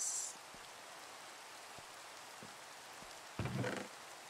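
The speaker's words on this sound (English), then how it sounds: "And of course, it's raining again." Soft, steady rain patters continuously in the background in a Minecraft SkyBlock modpack game, with a few faint taps and a brief louder splash of noise partway through.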